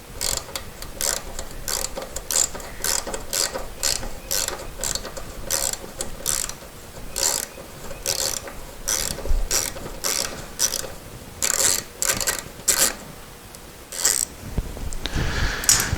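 A ratchet wrench turns a tap cutting new M5 x 0.8 threads into a 1966 Porsche 912 headlight housing, giving close, steady rapid clicking bursts in repeated strokes with brief pauses throughout.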